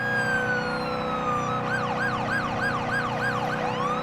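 Wailing ambulance siren from an emergency vehicle in a city-life video game, a steady tone at first, then rapid rising and falling yelp sweeps over a constant engine and traffic rumble, loud and close throughout.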